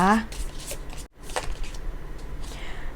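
Tarot cards are shuffled by hand, a brief papery riffle and flutter up close, with a voice speaking over it.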